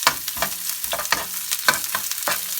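Onions fry in a pan for chicken tikka masala, with a wooden-sounding stir scraping in quick, regular strokes, about eight passes over a soft sizzle, close and fairly loud with no voices.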